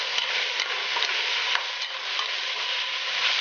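Ham and sausage frying in a pot over medium heat, a dense, steady sizzle with repeated stirring scrapes, close and continuous with no voices.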